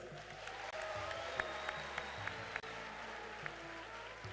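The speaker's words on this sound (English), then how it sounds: "I want all of you to clap for the visitors who have come to visit us here." An audience at a youth congress claps to welcome visiting delegations, a steady roll of crowd applause in a large hall with scattered louder claps and a faint murmur of voices.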